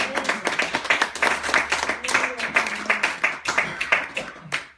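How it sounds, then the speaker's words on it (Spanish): A church congregation claps in quick, uneven bursts during a Spanish-language sermon, fairly close and lively, with voices calling out over the clapping. "Denle un fuerte aplauso a su palabra."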